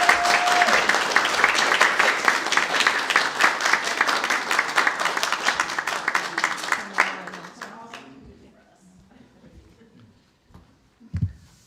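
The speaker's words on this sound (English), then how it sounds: "I'm hoping we can all give her a round of applause." Church congregation applauding together, a lively sustained round of clapping that thins and fades out after several seconds, leaving quiet room noise and a few stray knocks.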